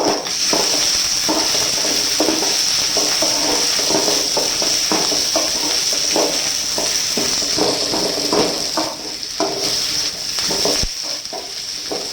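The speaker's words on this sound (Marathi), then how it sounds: "आता कांदा भाजून टाकते अगोदर" Loud, continuous sizzling of onions, then coconut, frying in hot oil, with repeated scraping and stirring strokes in a wok throughout.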